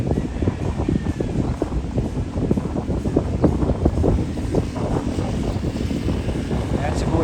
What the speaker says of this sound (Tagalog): Napakalakas ng alon kasi napakalakas ng hangin guys.